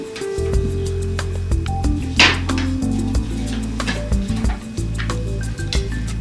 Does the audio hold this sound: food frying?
yes